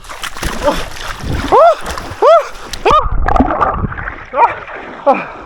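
Loud splashes and sloshing water as people plunge into an icy river in Iceland, mixed with gasps, shrieks and excited voices shouting close by.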